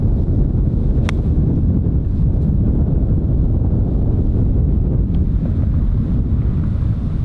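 Strong, steady wind gusts across a disc golf course, buffeting the microphone in a loud continuous low roar with a few faint ticks and no talk.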